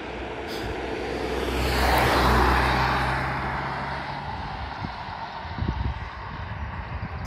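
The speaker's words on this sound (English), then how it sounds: "apart from this car that's just decided to come round." A car passing on a rural road in the Austrian countryside, a broad engine and tyre rush swelling to a peak and slowly fading, heard over steady wind noise outdoors.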